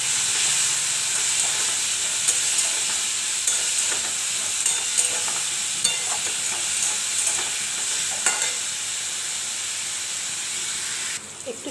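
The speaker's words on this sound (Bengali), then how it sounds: "এবার নাড়বো" Dal and potato curry being stirred in a pan, a steady hiss of frying with scraping clicks from the spoon throughout, close and fairly loud with no talk.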